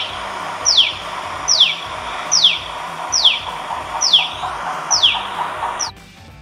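A tailorbird cries in a garden with six sharp, descending chirps at an even pace, close and clear with nothing else around them.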